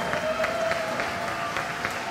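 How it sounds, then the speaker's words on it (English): An audience claps for a mariachi band, a dense, even burst of applause with no voices over it. "One more round of applause, ladies and gentlemen"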